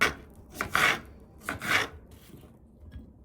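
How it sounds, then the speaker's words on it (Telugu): A knife cuts through fruit on a board in a home kitchen, making two quiet rasping strokes followed by softer scraping, close by and without speech. "గైస్ ఇప్పుడు నేను ఫ్రూట్స్ కట్ చేసుకొని పెట్టుకుంటున్నాను"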